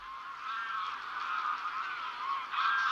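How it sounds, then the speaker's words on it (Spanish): A large flock of greylag geese on the Villafáfila lagoons in late September migration, honking in a dense, continuous chorus that stays loud and steady throughout with no pauses or talk. "A finales de septiembre las lagunas se ven invadidas por otro gran migrador, el ánsar común, también llamado ganso salvaje."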